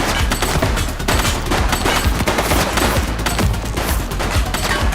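Gunfire in the police video game The Precinct: rapid, dense bursts of shots overlapping into a continuous loud fusillade like machine-gun fire, close and sustained throughout, with no talking.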